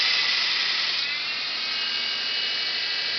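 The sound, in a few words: 48-inch belt grinder running at mid-speed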